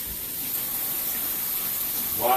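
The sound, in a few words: tap water running for washing hands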